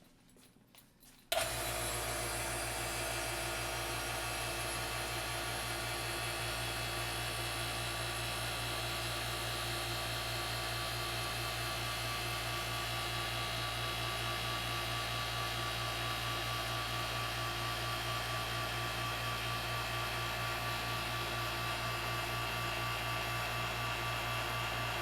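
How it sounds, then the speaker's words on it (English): A vacuum pump pulling down a bell jar switches on after a brief quiet moment, then holds a loud, steady mechanical whine and hum without a break for the rest of the clip. "I'm going to turn on the vacuum"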